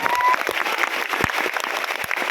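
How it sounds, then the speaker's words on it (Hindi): An indoor training-seminar audience claps in a burst of loud, dense applause that carries on steadily throughout, with a faint voice briefly heard beneath it. "तो हम लोग को एक जोरदार ताली।"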